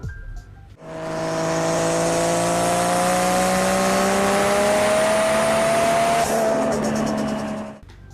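A Toyota 1JZ-GTE 2.5-litre turbocharged inline-six engine revs up hard and holds a high, rising whine for several seconds before cutting off, loud and close.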